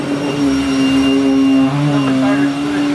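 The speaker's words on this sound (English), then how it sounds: "you can definitely hear the difference in the vacuum" Vacuum cleaner running loud and close over a large urine-soiled wool rug, a sustained whining drone whose pitch dips and shifts as it passes over the soiled area, with a voice speaking over it.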